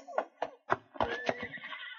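Horse whinnying in a short series of sharp, rising calls beside a wilderness trail in an old radio drama, close and loud with no talk over it.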